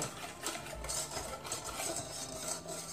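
Almond cake mixture stirred in a pan over low heat, a soft scraping and clinking of utensil against the pan in an irregular rhythm, close and fairly quiet.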